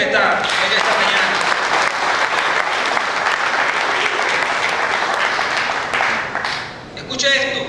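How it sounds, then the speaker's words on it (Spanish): A church congregation bursts into loud, dense applause during a Sunday morning service, steady and close throughout before dipping briefly near the end. "Un aplauso al Señor en esta mañana."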